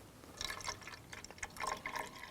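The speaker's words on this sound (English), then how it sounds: "And then of your cup of water, pour in about a half." Water poured from a cup while making slime, giving a quiet series of trickling, splashing gurgles over about two seconds, close by with no talking.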